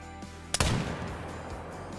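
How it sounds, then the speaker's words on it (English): A single loud rifle shot cracks at a deer from 160 yards in the hunting video game Call of the Wild, followed by a fading rumble. "And this time we're gonna go for a 160 yard shot."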